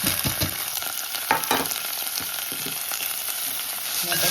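Steady sizzling of ginger and chilies frying in hot oil, with occasional crackles and a few scraping stirs close by.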